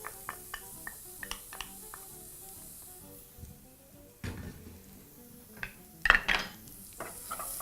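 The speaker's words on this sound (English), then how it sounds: "Using a wooden spoon, mix that together in your pan and continue to saute" A wooden spoon stirs onions sautéing in a pan on the hob, giving a run of light scraping taps and knocks against the pan over a soft sizzle, with a couple of louder clatters toward the end.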